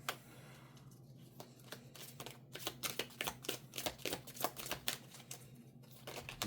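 Tarot cards being shuffled in a quick series of soft riffling flicks and taps, close and quiet, picking up pace toward the end.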